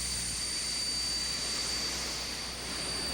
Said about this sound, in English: We started our engines and taxied out to the active runway.